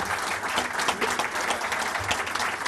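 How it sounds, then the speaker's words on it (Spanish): Audience applause after a speech at a commerce exchange, a dense, steady patter of many hands clapping alone at close range for nearly three seconds without pause. "Un fuerte aplauso para ella que se lo merece"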